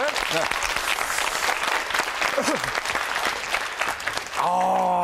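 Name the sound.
audience applause for a teacher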